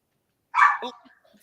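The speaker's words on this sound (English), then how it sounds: "Keanu, stop barking." A dog gives a single short, loud bark at close range, followed by a softer yip and faint whimpering sounds in an otherwise quiet room.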